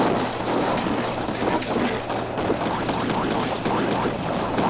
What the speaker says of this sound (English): Get the chain explosions.